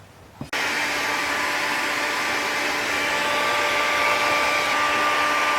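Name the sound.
heat gun drying a car body panel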